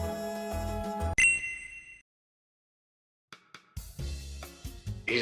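A single bright bell-like ding rings out over a busy musical background, then fades into a short silence before more music and effects resume.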